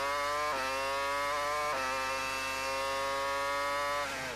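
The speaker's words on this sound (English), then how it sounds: "You can hear how hard the engine works around this circuit." Formula One car at the 2002 Canadian Grand Prix, a loud high-revving engine with dense harmonics heard from onboard, dipping sharply at two gear changes and again near the end as the throttle lifts.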